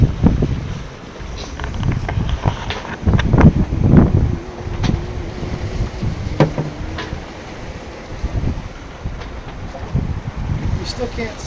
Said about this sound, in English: The whole boat's rocking side to side